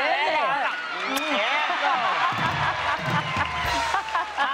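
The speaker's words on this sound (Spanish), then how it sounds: "¡Aplauso para Cristina!" Lively studio audience on a Spanish-language variety show cheering, whooping and clapping for Cristina, a dense crowd roar that runs throughout beneath excited shouting from a host and performers.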